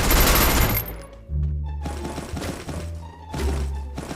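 Loud bursts of automatic gunfire in the mobile shooter Free Fire, a rapid fusillade at the start followed by further shots and thuds, with no talk over it.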